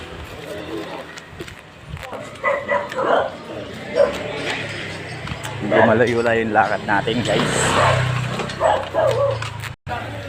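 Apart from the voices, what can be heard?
dogs barking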